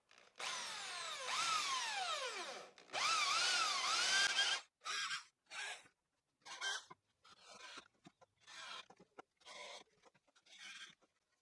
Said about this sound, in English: I will screw them in place.